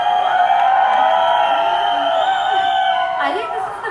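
Fans at a film trailer launch event cheer, whoop and shout in a loud, continuous roar from a large crowd, holding steady throughout with a fresh burst of excited yells near the end.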